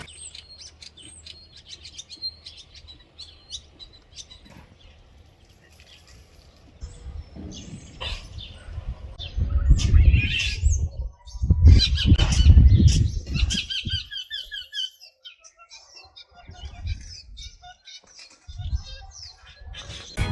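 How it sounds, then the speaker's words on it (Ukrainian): A common starling sings to a female during mating season, pouring out varied chirps, whistles and rattling phrases that swell into a loud, dense burst midway before thinning out again, with no voices. "то був лише шпак, котрий виспівує перед самкою у шлюбний період так, що з розуму зводить"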